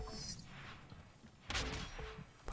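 Gunfire in a team deathmatch of the video game Doom, bursts of shots crackling at moments over a noisy game soundscape, with a loud volley near the middle and another at the end.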